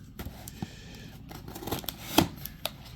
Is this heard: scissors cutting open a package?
yes